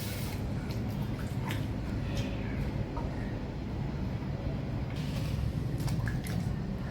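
Cut raw mango pieces are rinsed in water in a home kitchen, giving soft, quiet splashing and squishing with a few faint drips over a low background hum.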